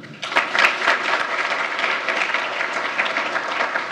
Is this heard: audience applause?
yes